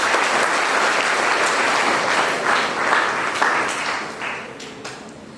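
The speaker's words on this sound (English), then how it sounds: "Let's acknowledge them with a huge round of applause." A school investiture ceremony audience gives a loud, close round of applause for newly installed young leaders, thick and continuous clapping with a few sharper individual claps standing out as it begins to taper.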